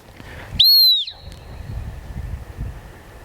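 A single sharp blast on a dog training whistle rings out to stop a gun dog during handling drills, loud and brief with a slightly falling pitch, over quiet outdoor background.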